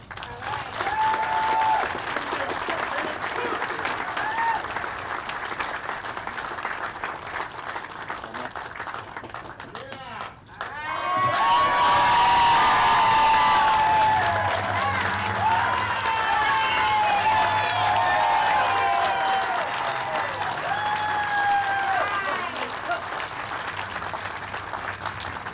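A large audience at a formal ceremony breaks into sustained applause and cheering that swells loudly after a brief dip, a dense wash of clapping hands with voices rising through it and no speech on top.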